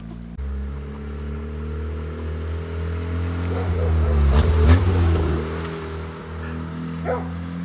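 A loud used beater car bought off Craigslist idles with a deep low rumble before its engine revs up hard, rising and then settling back, with a dog barking faintly nearby.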